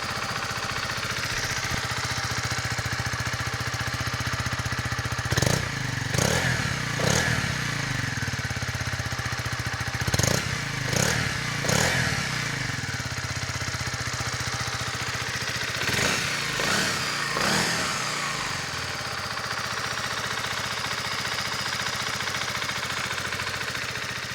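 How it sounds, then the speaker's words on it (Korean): A Honda CB125R motorcycle engine idles with a steady low rumble, then revs sharply in three clusters of throttle blips before settling back to idle. "내구성이 확실하게 보장되어 있는 1225R 엔진 사운드입니다"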